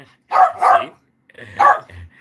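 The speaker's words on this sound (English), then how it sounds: "He's gonna be barking in a minute." A small dog barks close by, two or three sharp yips in quick succession, then a pause before another bark and a low whine.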